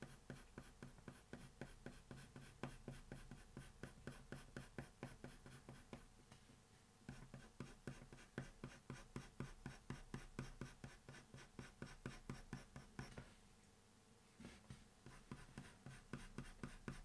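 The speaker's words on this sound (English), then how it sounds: "just tint the grey tone with a little bit of blue using this pencil here" Colored pencil shading on paper, adding blue and warm grey tones to a realistic drawing of a bird's eye; a steady, close rhythmic scratching of strokes continues for the whole stretch with only brief pauses.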